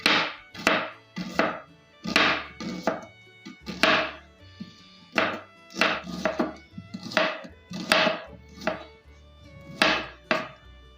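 Onions are chopped with a knife on a cutting board in a kitchen. The knife lands in close, crisp thunks, about a dozen separate strokes in a loose, uneven rhythm with short pauses between them.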